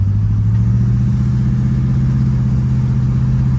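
A 1965 Ford Mustang pulling away, its engine note steady and strong with a low, pulsing harmonic drone held close and loud for the whole stretch; no talking.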